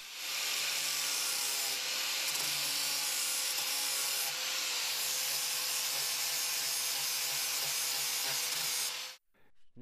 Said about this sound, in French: J'utilise à présent un disque à lamelles, car à cause du meulage, vous voyez que nous avons une ébarbure tranchante.